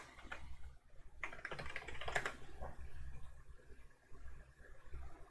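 Computer keyboard typing out a terminal command on a Linux Mint system: a quiet, irregular run of light key clicks over faint background hiss.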